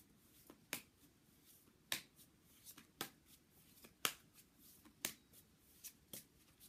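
Playing cards from a cartomancy deck are handled and pulled, giving sharp, evenly spaced card snaps and flicks about once a second over a quiet room, with no speech.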